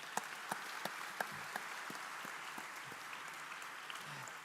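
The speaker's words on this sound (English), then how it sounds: "And I think that deserves a round of applause," Crowd applause at a university degree convocation ceremony, a steady wash of many hands clapping in a large hall with a few sharper claps standing out, moderately distant and fairly quiet.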